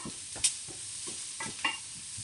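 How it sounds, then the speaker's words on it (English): Vegetables fry for egg muffins in a pan with a steady soft sizzle, punctuated by a few brief stirring scrapes and clacks close by, no talking. "So I'm going to fry those for about 4 minutes."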